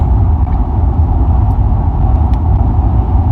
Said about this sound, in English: Here comes another car zipping along here.